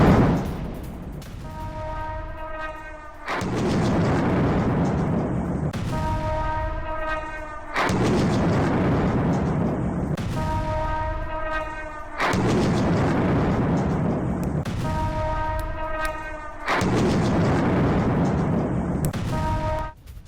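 Explosions from Russian drone attacks in Kharkiv come in repeated heavy, sustained rumbling booms, each a long roaring blast lasting a couple of seconds, separated by short rough pauses, loud and continuous throughout.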